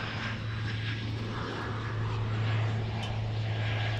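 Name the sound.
airliner arriving at DFW airport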